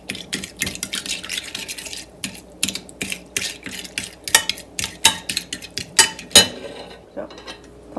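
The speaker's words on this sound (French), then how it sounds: "On mélange ça." A spoon stirring Saint-Hubert meat marinade mix into water in a bowl, giving irregular scraping and clinking strokes, close and fairly loud, with no talk.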